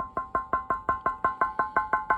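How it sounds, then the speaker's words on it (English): Knuckles rap on the glass screen of an old, heavy glass-tube TV, about a dozen even, sharp knocks in a steady quick rhythm, close and fairly loud with no talk. "but more like knocking on glass."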